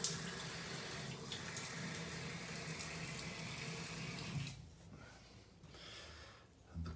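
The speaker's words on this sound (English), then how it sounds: "Just get my head wet, cold Miami water." Cold tap water runs from a faucet in a bathroom sink while a head is wetted before shaving, a close, steady splashing rush that drops off partway and then returns in softer bursts.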